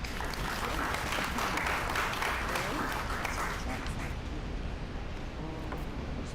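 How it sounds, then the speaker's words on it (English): Audience applause at a town hall meeting, a broad steady rush of clapping from a room full of people that tapers slightly toward the end, with voices and crowd murmur mixed in. "We want to give them a round of applause"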